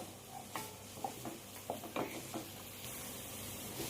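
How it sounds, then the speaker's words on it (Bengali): Ginger garlic paste fries with onions in a pan for Chicken Mandi, a soft steady sizzle broken by repeated scraping stirs close up, with no talk. "আমি আদা রসুন বাটাটা পেঁয়াজের সাথে ভালো করে ভেজে নেব"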